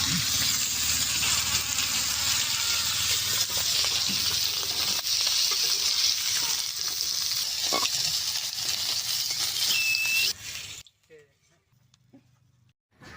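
Crabs fry in hot oil in a village kitchen, giving a steady, dense sizzle close by that carries for about ten seconds before cutting away to quiet.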